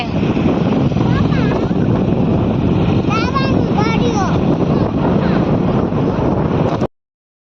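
Steady, cool wind at Rozi port roars into the microphone throughout, with water sloshing beneath and faint bird chirps briefly audible in the middle.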